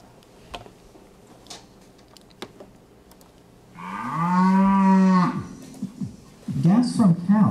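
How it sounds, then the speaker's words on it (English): A cow gives one long, loud, low moo lasting about two seconds, with a few faint clicks before it and a shorter lowing call or voice sound right after. "Gas from cows."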